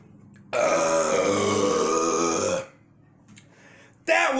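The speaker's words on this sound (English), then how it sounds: "That was the burp you all wanted earlier." A long, loud, resonant burp lasting about two seconds comes right after chugging a 20 oz Mountain Dew Code Red, followed by quiet and a brief sound at the end.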